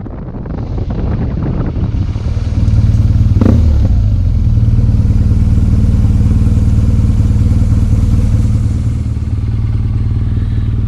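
A motorcycle engine drones steadily as the bike rides along, with wind buffeting the microphone and an occasional clatter; no voices.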